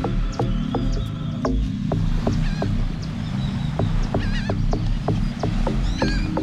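Birds calling by the sea at a camper-van campsite near Las Coloradas, Mexico, repeated short honking and chirping calls over a constant low rumble of sea waves, no talk.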